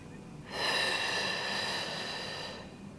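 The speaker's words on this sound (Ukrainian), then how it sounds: "Видих і заключний. Вдих." A single slow, breathy exhale from a breathing exercise for releasing chest tension, starting after a brief pause and fading gently over about two seconds, close and soft with no talking.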